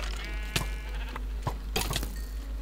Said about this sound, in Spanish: ¡Ay! ¡Oveja!